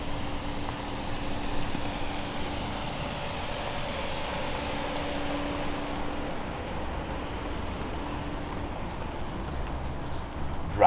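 Steady, muffled road and engine hum inside a Range Rover Autobiography on the move, a smooth continuous rumble with faint tonal drone and no talk.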